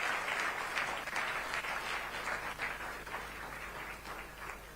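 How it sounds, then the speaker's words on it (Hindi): An audience at a teachers' felicitation ceremony applauds to welcome the chief minister. The clapping is steady and dense throughout, sounds somewhat distant and holds an even level without pause. "जोरदार तालियों के साथ आप उनका अभिनंदन करें।"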